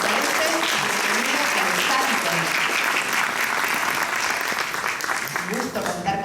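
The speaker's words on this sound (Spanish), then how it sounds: "Así que lo vamos a recibir con un cálido aplauso." An audience at a science communication panel event gives warm, sustained applause, loud and even throughout, with a voice briefly heard over the clapping.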